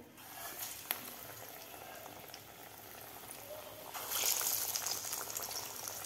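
Dal vadas deep-fry in a pan of hot oil, giving a steady close bubbling hiss that grows louder and busier toward the end, with a faint tap early on.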